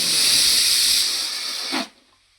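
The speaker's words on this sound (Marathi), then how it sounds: "ही झाली दुसरी शिटी" A pressure cooker on the stove, cooking desi paya soup, lets out its second whistle: a loud, steady rush of hissing steam for about two seconds that cuts off abruptly into near silence.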